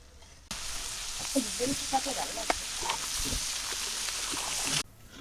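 Vegetable bhaji made with star fruit sizzles and crackles steadily in a pan on a village stove, a continuous frying hiss with occasional stirring clinks and pops.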